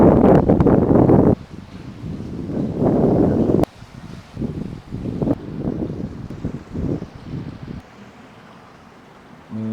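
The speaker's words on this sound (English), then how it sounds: "It's very windy right now." Strong wind buffeting a handheld microphone outdoors beside a 7-Eleven in Thailand, heavy roaring gusts that drop and surge in uneven waves, with no one speaking.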